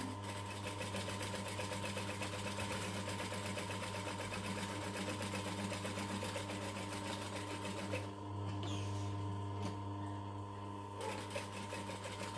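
A sewing machine back stitches fabric while a project's corner is turned slowly, giving a steady, loud mechanical whir with a constant hum that runs throughout and changes briefly near the end.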